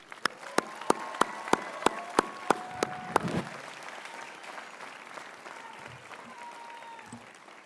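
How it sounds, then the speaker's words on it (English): At a commencement ceremony, applause opens with about ten sharp, evenly spaced claps, then settles into a softer, diffuse crowd rumble that fades gradually. "in a round of applause for all those that I can see who are behind you"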